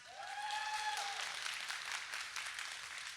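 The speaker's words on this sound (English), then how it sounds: "Can we get a round of applause for Pishifat?" Applause from the crowd at an osu! developer talk at COE2022, a moderate, steady patter of clapping over a fading electronic tone, continuing for several seconds.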